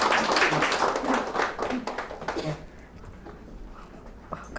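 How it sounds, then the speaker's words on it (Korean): A lecture class applauds to open a session, heard as a dense, fairly loud round of clapping that dies away after about two and a half seconds, leaving quiet room tone with a few stray sounds. "큰 박수로 시작할까요?"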